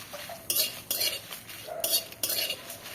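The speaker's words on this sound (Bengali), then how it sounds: "শুধু মুচমুচে হবে, ঠিক এইভাবে আমি ভেজে নেব।" Whole cumin seeds and whole garam masala frying in a little oil in a pan, with four sharp bursts of spoon-against-pan stirring scraping over a faint, steady sizzle, close and without talk.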